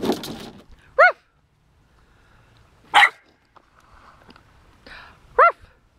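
A puppy lets out three short, high yips spaced a couple of seconds apart, close and clear, with faint rustling and a brief soft voice at the start.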